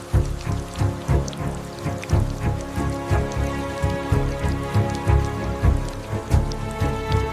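Heavy, relentless rain pours down in a storm, a dense steady hiss with pulsing low rumbles and scattered drops, loud and continuous throughout with no voices.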